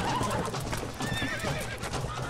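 A horse neighs and whinnies in the video game Red Dead Redemption over a busy background with hoof clip-clops, fairly loud and close, lasting a couple of seconds.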